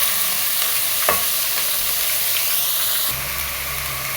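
Small omena fish frying and being stirred in a pan, a steady loud sizzle with scraping stir strokes, one sharp clink near the middle and the hiss dropping slightly toward the end.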